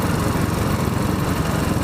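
A Royal Enfield Bullet 500 Iron Barrel engine runs with freshly adjusted valves, giving a steady, busy, close mechanical whir at even speed and loudness, with no voices.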